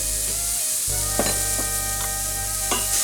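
Onions frying in a pan with a little salt and sugar, a steady sizzle over a low hum, broken by several sharp scraping strokes of a spoon at irregular intervals.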